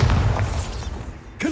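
Bombarda explosion spell cast in the video game Hogwarts Legacy, a deep booming blast with a low rumbling tail that fills the clip, followed by a brief swooshing magical flourish near the end.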